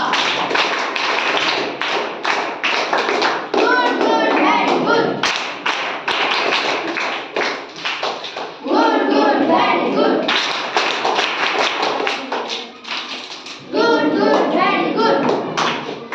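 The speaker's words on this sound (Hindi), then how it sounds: "कक्षा 8 के लिए बेहतरीन, वेरी गुड, ताली बजा" A Grade 7 and 8 class in a school debate session claps in bursts of rapid, loud, close hand claps, pausing briefly between rounds.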